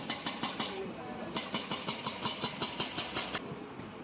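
An express train rolls into Krishnamma Kona station in the Nallamala forest, heard from on board as a steady run of rhythmic wheel clacks over rail joints, with a brief pause partway and a sharp squeal near the end.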